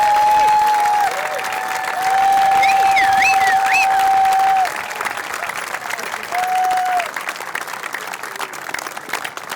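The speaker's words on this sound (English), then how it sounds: "raise their hands and get a round of applause" A crowd claps warmly for city staff at the opening of a downtown greenway, steady applause with a few cheers, while a sustained electronic tone hums over it and fades near the end.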